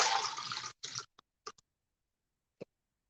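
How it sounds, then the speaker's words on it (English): Water pours into a measuring cup in a close, steady stream for under a second, followed by a short splash and a few scattered drips and light taps in otherwise near silence. "I'm gonna pour out my water"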